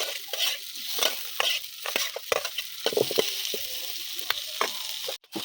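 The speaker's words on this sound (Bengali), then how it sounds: "বন্ধুরা এটা কিন্তু বেশি ভাজা যাবে না।" Onion, green chili and a whole large tomato fry and get stirred in a pan for chicken do pyaza, giving steady close sizzling broken by repeated scraping and stirring strokes, with no talking.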